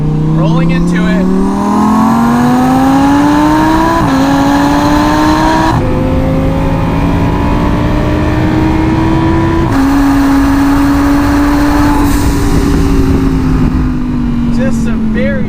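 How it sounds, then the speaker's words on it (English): A Hennessey Performance twin-turbo Audi R8 accelerates hard through several gears. The loud engine note climbs steadily, drops at each shift and then rises again. The sound is continuous and close, and a voice can be heard under it. "I'm driving a twin turbo Audi R8. All right, here we go. Rolling into it."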